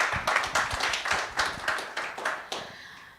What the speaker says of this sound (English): I think the Kenyan story deserves some round of applause.